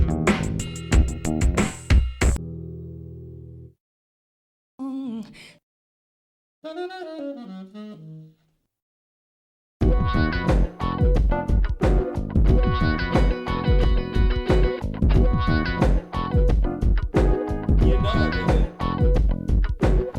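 A choppy run of sampled hits and short tonal blips with gaps of silence, then a dense, punchy 94 BPM hip hop drum loop from a sample CD kicks in and keeps a steady groove.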